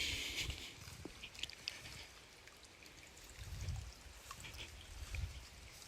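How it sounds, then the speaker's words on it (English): Soft, continuous trickle of water running through small creeks, faint and outdoors, with a low rumble passing in the background. "You hear water from the little creeks and stuff."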